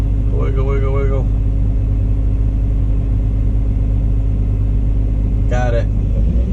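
A six-wheel-drive dump truck engine rumbles steadily and loudly while moving across dredged pond ground, a constant low drone running the whole length with brief whining tones near the start and end.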